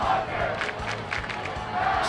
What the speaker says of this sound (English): Chanting the big tank's name